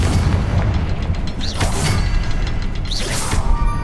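Confringo blasting spell in the game Hogwarts Legacy detonates with deep rumbling booms and two sweeping whooshes over a dense, loud game soundscape, with no talking.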